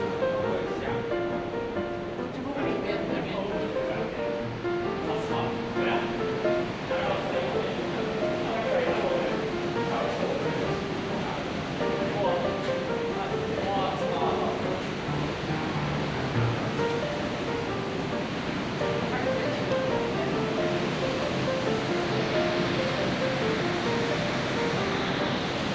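A waterfall in Canada, seen from the side with water dripping everywhere, pours out a continuous broad roar of rushing water that stays dense and constant from start to finish, with faint voices now and then beneath it.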